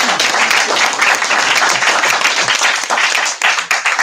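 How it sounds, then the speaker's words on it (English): An audience at a bookstore author event gives a dense, loud round of applause, continuous and even, tapering slightly toward the end with no speech over it. "Let's give another round of applause for Dr. Ursula Goodenough."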